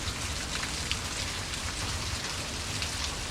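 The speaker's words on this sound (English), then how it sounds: "we're having an unusual amount of rain." Heavy spring rain pours steadily outdoors on a farm, a dense, constant hiss of drops close by with no talking.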